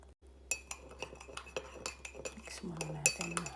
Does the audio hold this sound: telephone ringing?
no